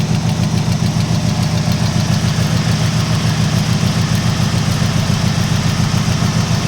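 An engine cranks over during a compression test, with a cylinder reading zero; a steady, loud, rhythmic mechanical churning with fast regular pulses holds evenly the whole time, close up and without talk.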